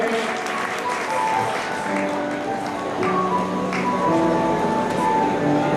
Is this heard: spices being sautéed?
no